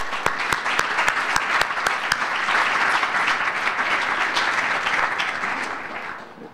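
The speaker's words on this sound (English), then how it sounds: "Please provide a round of applause for Coach Robert Ybarra as he shares some brief comments." Steady audience applause for Coach Robert Ybarra at a youth sports Wall of Honor dedication, many hands clapping with a few sharp near claps, holding for several seconds before tapering off.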